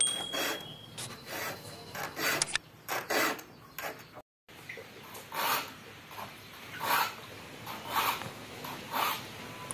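A metal file rasps repeatedly across the teeth of a hand saw, a steady series of close scraping strokes with brief pauses between them and no talking.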